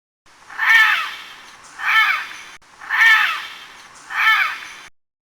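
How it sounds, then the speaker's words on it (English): Four loud, harsh parrot calls in a steady repeating pattern, each a raspy squawk with a short quieter gap between, close and alone with no talking. "parrot,"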